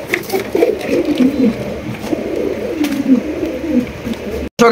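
Soft, low cooing from racer pigeons at a pigeon farm continues steadily under a noisy background, with occasional clicks and a brief dropout near the end.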